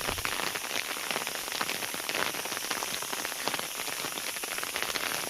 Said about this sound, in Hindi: यहाँ ऐसे बारिश का व्यू है, बिल्कुल बादल छाया है।